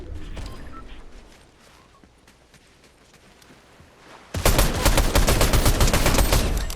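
Fortnite gunfire. A few shots come first, then a quieter stretch, then a loud, dense burst of rapid automatic fire that continues to the end.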